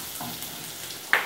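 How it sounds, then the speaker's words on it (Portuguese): Garlic sautés in a pan in a rural home kitchen, giving a soft, steady sizzle and frying hiss with a brief sharper crackle near the end. "Então aqui eu tô refogando o nosso alho."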